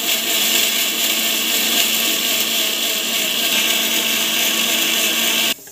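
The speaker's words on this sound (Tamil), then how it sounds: "ஸோ இப்போ வந்து பார்த்திங்கன்னா மிக்சியில் போட்டுட்டு அரைச்சிக்க போகிறோம்" A mixer grinder whirs loudly and steadily as it grinds ingredients into a paste, a dense continuous motor roar that stops suddenly at the very end.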